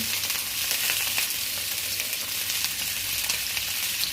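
Butter sizzling and frying in a pan at the start of a chicken stew, a loud, steady, hissing crackle close up with no voices.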